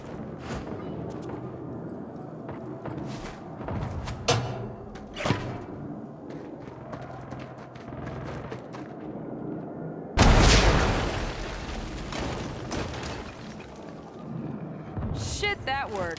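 In the Saints Row video game, a rocket is fired and explodes: scattered thuds and impacts lead to a sudden loud blast that rumbles and fades. Voices speak over the action.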